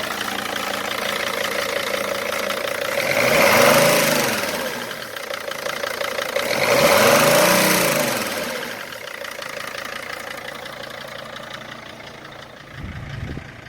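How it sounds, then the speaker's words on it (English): A five-cylinder car engine idles steadily with its MAF sensor unplugged, rising twice in smooth revs before settling back to a continuous even idle, close and fairly loud with no voices. "We just restarted it with the MAF unplugged, and now it's running"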